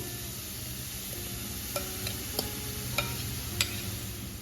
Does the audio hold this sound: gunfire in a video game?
no